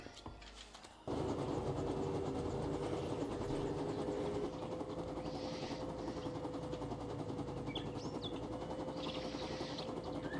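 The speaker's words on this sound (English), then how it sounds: "And fly our helicopter over here." Helicopter flying in the survival video game 7 Days to Die, a steady loud rotor and engine drone starting abruptly after a second and holding throughout with a constant tonal whine, no talk.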